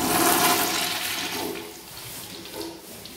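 A Sloan urinal in a men's restroom flushes with a loud rush of water that gradually tapers into a softer trickle and gurgle, heard up close with no talking.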